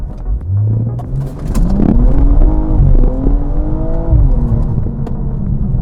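A BMW G42 M240 accelerates hard, its engine rising in pitch through the gears with a deep rumbling tone heard from inside the car, steady and loud with brief shift dips.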